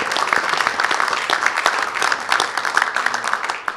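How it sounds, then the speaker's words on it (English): A crowded room applauds in a House of Representatives chamber setting, dense bright clapping from many hands, loud and continuous throughout with crisp individual claps standing out. "Let's give a round of applause for that."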